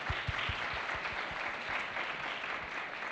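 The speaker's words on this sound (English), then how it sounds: "Let's have a round of applause for this important resource." An audience claps in a campus hall at a fashion design contest event, a brisk burst of applause with sharp, distinct claps early on that blend into a steady, moderately distant patter.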